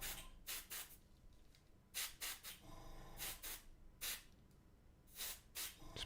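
Airbrush spraying paint onto a Horus Heresy Techmarine miniature, with short repeated bursts of airy hiss that start and stop in uneven rhythm, close by, and a longer spray in the middle.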